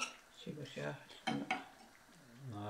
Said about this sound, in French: Ok, elle remet le couvercle.